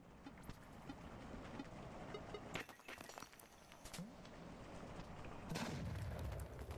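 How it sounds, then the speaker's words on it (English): Explosions in the video game Animal Well, a few loud booming bursts over a steady rumbling game background, with a sharp blast near the three-second mark and another heavy one toward the end. "And explosions. Occasional explosions."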